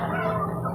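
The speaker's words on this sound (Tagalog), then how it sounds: "Nakapaligo ako ngayon ng aking mga alagang manok." A pet fighting rooster, a gamecock being bathed, gives a short, loud, close harmonic call that lasts under a second and cuts off abruptly, with no talking.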